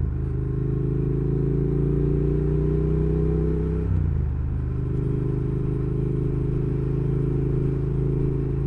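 Triumph Thruxton R retro classic motorcycle engine running close by, a deep steady rumbling throb that dips briefly mid-way as the revs shift, then settles back into a loud even idle, no talking.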